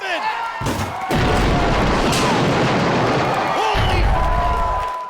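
At a WSX wrestling show, pyrotechnic explosions go off as a sustained, loud, broadband roar lasting several seconds, with a crowd and a voice faintly audible underneath.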